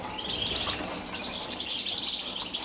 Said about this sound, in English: These are the goldfinches